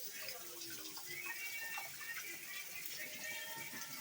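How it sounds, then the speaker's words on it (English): Hot water runs steadily from a kitchen tap into a sink, a continuous splashing hiss at moderate distance with no talking over it. "Okay, I'm going to get the water pretty hot."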